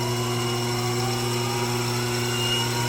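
Watchmaking lathe switched on and running, a steady, even motor hum with a constant whine, close and unchanging throughout, no talking.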